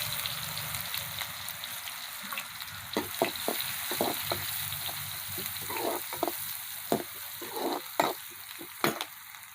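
Chopped onions sizzle steadily in hot oil while stirred, with intermittent scraping and clinking sounds from a spoon against the pan.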